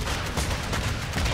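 Chopper gunner strikes in Modern Warfare 3 rattle out as a quick run of rapid shots and booming blasts, loud, dense and continuous.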